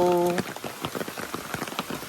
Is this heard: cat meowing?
no